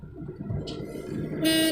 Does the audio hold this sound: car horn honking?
yes